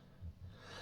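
A big dog named Denzel snoring nearby, a single soft, low snorting breath rising and fading, quiet against a faint room background.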